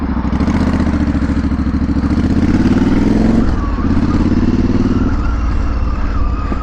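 A motorcycle fitted with a custom twin-pipe exhaust being ridden on wet November roads, a loud, steady mid-pitched engine drone with slight rises in revs and some rattle, close up throughout.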